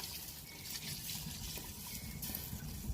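Water is poured into a pot for a Cajun seafood boil of crab, lobster and crawfish, a faint, steady gushing that runs without a break.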